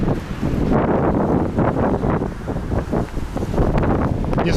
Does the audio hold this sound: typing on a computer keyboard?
no